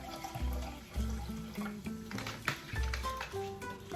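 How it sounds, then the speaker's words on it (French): Very cold sparkling water pours into a measuring container for tempura batter, a close, gurgling stream with bubbling and light splashes over a few seconds. "On mesure 20 centilitres d'eau gazeuse"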